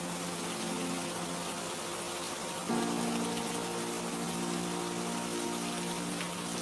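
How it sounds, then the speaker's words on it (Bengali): Steady heavy rain pouring down in a cartoon village, a dense constant hiss of falling water that thickens partway through, heard alone with no voices. "হুট করে যে এরকম বৃষ্টিটা নামবে কে জানে।"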